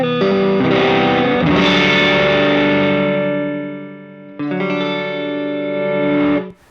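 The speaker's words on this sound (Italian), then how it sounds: "ascoltate con attenzione la dinamica e la grana della distorsione." An electric guitar played through an LAA Custom CN81 Push True Coil overdrive pedal powered at 9 volts, sustained distorted chords ringing out, fading, then a fresh strummed chord held loud until it cuts off.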